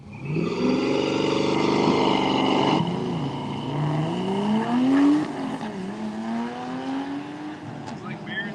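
Drift car engine at a Midwest drag race, loud and close, revving hard with a rising pitch and tire squeal, then settling into a lower rumble, under a commentator's talk.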